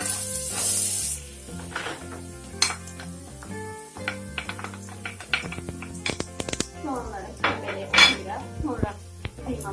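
Onions frying in hot oil in a home kitchen while making a minced meat and potato börek, with pan sizzle under clattering pots, utensils and scraping, plus some background talk.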